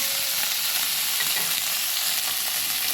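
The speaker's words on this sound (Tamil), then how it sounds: "ஒரு ரெண்டு நிமிஷம் எண்ணெயிலே இப்படியே வதக்கி விட்டு" Meat sautéing in oil, a steady close sizzle with a brief stirring scrape, no voices.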